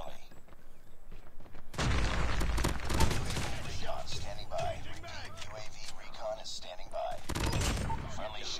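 Rapid automatic fire from the Fennec gun in COD Mobile comes in a couple of dense, fast bursts of close gunshots, with someone talking excitedly over the shooting.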